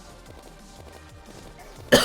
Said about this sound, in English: I'm kind of losing concentration because I need to cough so bad.